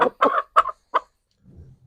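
A hen gives a short run of four clucks, then soft low rustling follows.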